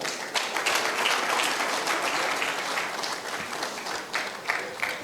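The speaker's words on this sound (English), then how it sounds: "Please, can we make the applause a bit louder?" An audience at a ministerial press briefing gives steady applause, a continuous, medium-loud clatter of many hands with a few sharper individual claps standing out near the end.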